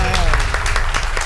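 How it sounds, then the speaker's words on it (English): A talk-show studio audience breaks into brief applause, dense clapping with voices chattering underneath. "Let's get a round of applause."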